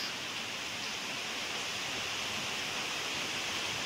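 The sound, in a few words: rain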